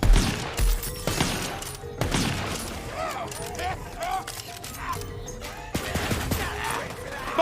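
Rapid bursts of video-game gunfire from Tiny Tina's Wonderlands crackle in repeated volleys, mixed with someone talking, game voices and scattered impact crashes.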